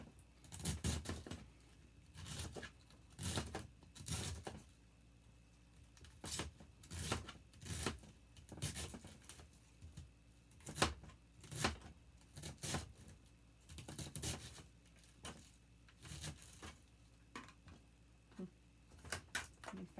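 A knife chopping cabbage on a board for sauerkraut, a series of close, crisp thuds in uneven bursts with short pauses between, alone and without talk.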